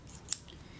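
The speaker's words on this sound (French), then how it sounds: "vous aurez besoin d'une paire de ciseaux" A single short snip of scissors through paper, quiet and close, on a hedgehog craft made from a catalog, with faint room noise around it.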